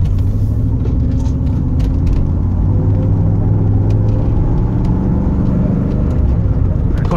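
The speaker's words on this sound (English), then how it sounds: "The car really takes off." A 1987 Camaro IROC-Z engine revs and pulls hard under acceleration on the road, a steady loud rumble with road noise throughout.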